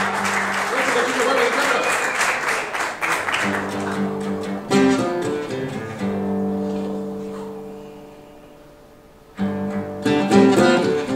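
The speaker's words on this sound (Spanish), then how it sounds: "necesito aplausos" Concert audience applause fills a live music night in Chajarí as a first-time singer is introduced, rising over a band playing underneath, then fading as the music carries on before swelling again near the end.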